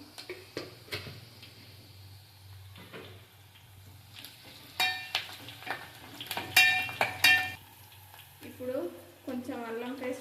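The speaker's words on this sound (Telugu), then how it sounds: "పచ్చిమిర్చి వేసుకున్న తర్వాత కొంచెం కరివేపాకు వేసుకోవాలి" Green chillies and curry leaves sizzle in a pan with a soft frying hiss, bursts of sharp crackling spatter and a few utensil clinks, while someone speaks near the end.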